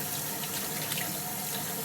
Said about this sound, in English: I'm just going to rinse these good and just cut them